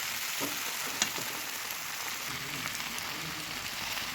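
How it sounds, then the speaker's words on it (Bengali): Jackfruit curry fries and is stirred in a pan, a steady broadband sizzle with a few soft spatula scrapes and one sharp tap near the start, continuous and close with no talking. "খুব ভালোভাবে মিশিয়ে এঁচোড়গুলোকে ভালোভাবে আবারও কষিয়ে নিতে হবে"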